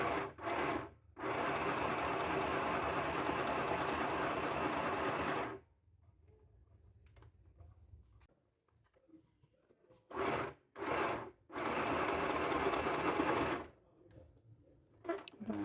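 Sewing machine stitching a second reinforcing seam on a fabric bow, loud steady whirring bursts of stitching broken by short pauses and a quieter stretch while the needle and presser foot are repositioned.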